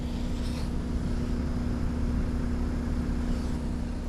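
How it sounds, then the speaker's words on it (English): The outdoor unit of a mini split heat pump installed at a cabin, caught with the microphone held close, gives off a steady low hum with a pronounced tonal drone beneath a constant airy whoosh, unchanging throughout. "But that noise is on the heat pump side."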